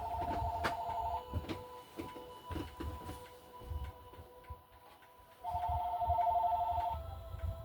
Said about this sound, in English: Excuse me, I gotta pick this phone call up.